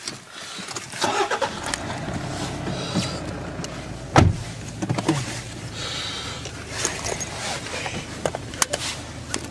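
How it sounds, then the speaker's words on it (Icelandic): Someone climbs into a grandfather's Toyota car: shuffling and rustling, a sharp door thud around the middle, then brief whirs and clicks in the cabin, close and fairly loud with no talk. "Ok, let's get into the car."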